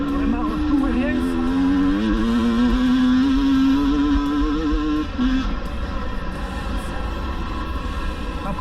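A 2022 GasGas EC 300 two-stroke enduro motorcycle runs continuously and close up while riding, its loud buzzing engine note rising and falling with the throttle, a person talking underneath.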